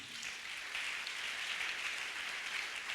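A church congregation applauding at a prayer service, a continuous dense wash of clapping that holds steady throughout, fairly distant and moderately soft, with no clear voices on top.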